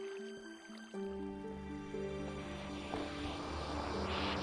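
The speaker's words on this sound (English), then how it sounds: "that's not going to freeze because it's running water" Running water in a snowy outdoor stream gives a continuous liquid trickle and gurgle, growing fuller and louder after the first second, with a steady humming tone underneath.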